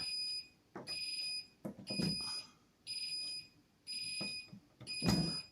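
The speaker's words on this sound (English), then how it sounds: "it will not stop beeping." A fire alarm control panel's shrill buzzer beeps in repeated pulses, loud and steady, with some thuds and faint background noise between the tones.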